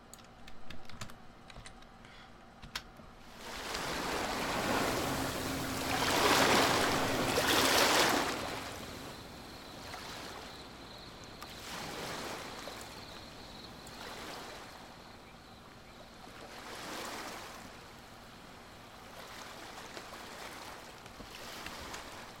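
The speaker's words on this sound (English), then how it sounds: "And then we'll take our water sound and we'll drag that out there as well." Layered water sound effect from a sound design mix: washing, surf-like swells rise and fall in several broad waves, moderately loud, alone with no voices.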